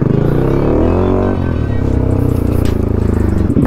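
Bajaj NS200 motorcycle with a cracked exhaust bend pipe idling and revving, a loud, steady low rumble with a raspy, uneven exhaust note that changes pitch partway through, close by.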